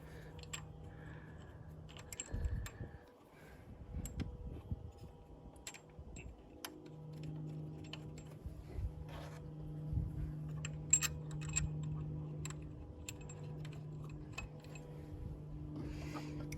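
Bolts being started by hand on a new fuel pump in a Kia Optima: sparse, light metallic clinks and taps close by over a low steady hum, with no talking.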